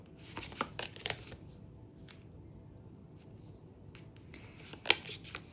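Tarot cards shuffled and drawn by hand, soft close riffling and papery flicks in short bursts separated by quiet pauses.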